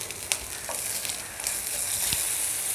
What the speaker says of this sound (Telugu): ఇలా పెట్టుకొని రెండు వైపులా గోల్డెన్ బ్రౌన్ కలర్ వచ్చేదాకా ఫ్రై చేసుకోవాలి